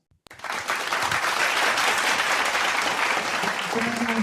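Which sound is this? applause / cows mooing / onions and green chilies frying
applause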